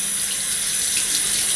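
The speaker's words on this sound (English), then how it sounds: "Turn the water on." Tap water runs steadily into a sink for handwashing, a continuous close splashing hiss with no talk over it.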